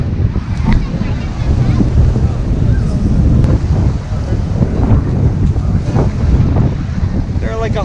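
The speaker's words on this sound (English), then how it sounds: "It is so windy." Strong wind buffets the microphone continuously, a loud roaring rumble that never lets up, on the coast at Porto de Galinhas, Brazil.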